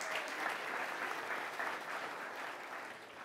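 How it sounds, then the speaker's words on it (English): A chapel audience claps steadily as student prefects are called to stand, a sustained, moderately distant wash of applause that stays even and unbroken throughout. "Let me ask you to hold your applause till they're all on their feet"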